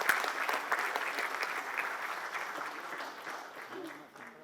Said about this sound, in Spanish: Vamos a brindarles un fuerte aplauso y agradecerles por su presencia